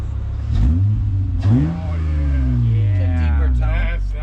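Car fitted with an Endless RPM exhaust revving: several rising and falling engine sweeps with a deep exhaust tone, loud and close, at a car show.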